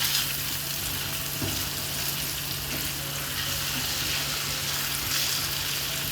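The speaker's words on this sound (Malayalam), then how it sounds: "നമ്മുടെ ക്യാപ്സിക്കം അല്ല പനീറ്, അതും ഒന്ന് ഇളക്കി കൊടുക്കാം" Paneer is stirred through a masala frying in a pan, a steady, close sizzle that holds evenly throughout with faint stirring scrapes underneath and no voices.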